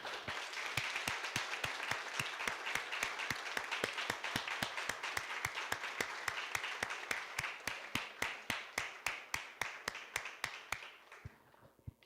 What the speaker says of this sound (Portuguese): Vamos dar uma grande salva de palmas para Jesus.